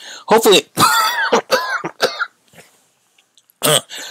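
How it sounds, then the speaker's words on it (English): A man coughs and clears his throat in a burst of several harsh, close bursts, pausing briefly, then one more cough near the end, with no talk over it. "while I take care of this cough"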